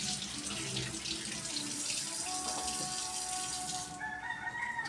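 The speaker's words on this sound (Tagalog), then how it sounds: "Dito na lang tayo maghugas ng ating kamatis." Tomatoes washed under a running kitchen tap, a steady close hiss of water splashing into a sink, with a rooster crowing faintly in the background.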